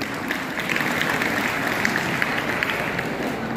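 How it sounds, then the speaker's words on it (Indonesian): Students at a motivational assembly at a Jakarta high school clap for their teacher, with a steady wash of many hands clapping at even loudness throughout and no clear pauses. "Tepuk tangan buat Pak Guru."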